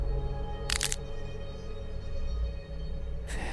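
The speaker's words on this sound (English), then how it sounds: "making a cracking sound as they go." Fragments breaking off a face in an ASMR monster role-play make a cracking sound: two short, sharp crackling bursts, one early and one at the very end, over a steady low hum.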